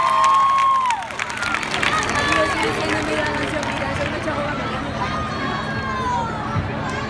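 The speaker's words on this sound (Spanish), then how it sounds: "Fuerte el aplauso para todos ustedes" Crowd at an open-air municipal festival concert applauding and cheering, a broad roar of clapping and shouts with whistles and voices mixed in, sustained throughout behind loud amplified sound.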